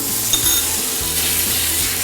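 Ingredients for pork noodles being stir-fried in a pan: loud, close sizzling and frying with repeated stirring scrapes of a utensil against the pan, continuous and without speech.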